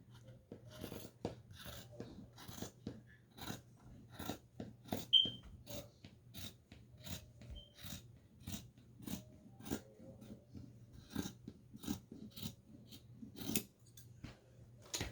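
Scissors snip through bonnet fabric in a steady series of crisp, close cuts, repeating at an even rhythm with a faint low hum underneath and no talking.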